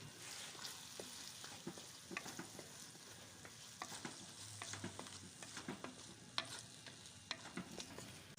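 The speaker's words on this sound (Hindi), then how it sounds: "चम्मच हिलाएंगे ताकि अंडा और भिंडी अच्छी तरह से मिक्स हो जाए" Egg and okra (bhindi) frying together in a pan while a spoon stirs them, giving a faint, steady sizzle broken by scattered soft scrapes and clicks, with no voices.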